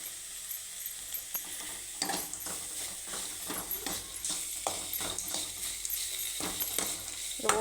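Chopped carrot fries in a pan for carrot rice, a quiet sizzle under repeated scraping and stirring strokes from a utensil, the clatter coming in uneven taps and rattles against the pan.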